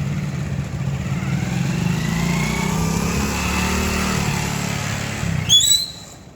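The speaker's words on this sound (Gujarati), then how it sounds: "તો મિત્રો આપણે બાઇક ચલાવ્યું ને જોઈએ છે કેટલા સેકન્ડમાં આપણે પહોંચ્યા।" A motorcycle ridden in a timed bike challenge gives a steady, close mid-pitched engine drone that holds evenly for several seconds, then ends with a brief sharp high squeal, with no speech.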